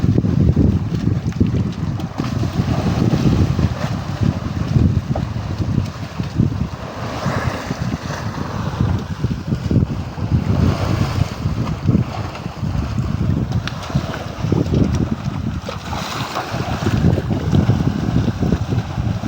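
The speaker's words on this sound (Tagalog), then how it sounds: "amihan pa rin, saka maalon at malakas ang hangin." Strong northeast monsoon wind buffets a fishing boat on rough sea, a constant loud roar of wind noise over sloshing waves and the hull's churning, close and unbroken.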